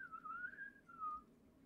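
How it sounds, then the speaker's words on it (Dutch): A person whistles a short, wavering tune, faint and somewhat distant, with a brief pause before a final held note and no speech over it. "Hou op met fluiten."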